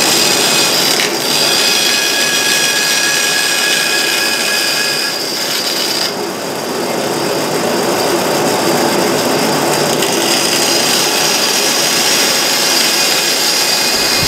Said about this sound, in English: I'm going to cut that out on the bandsaw.